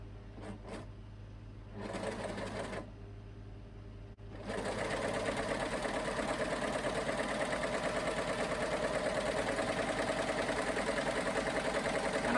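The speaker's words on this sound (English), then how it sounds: "I'm not pulling this or stretching it, I'm just letting the machine take it through." Sewing machine stitching around the neckline of a top, with a few short bursts and then a long steady, close, loud mechanical hum running to the end without speech.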